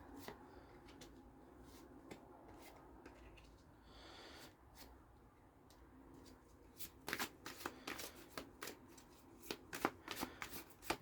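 Tarot and oracle cards being shuffled by hand, a soft steady riffle that grows into louder, quick flicking snaps in the second half, close and alone with no talking.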